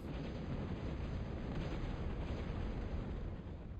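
In a strategy video game, bombing explosions tear through missile towers as a continuous, dense rumble of blasts and booms, loud and sustained with no talk over it.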